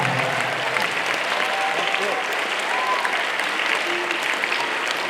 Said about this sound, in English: I request everyone to kindly clap for Shiny ma'am and Swapna ma'am.